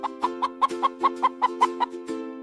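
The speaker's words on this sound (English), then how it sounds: "H-E-N. Hen." A hen clucks in a quick, even series of about a dozen short, nasal clucks, close and clear against silence.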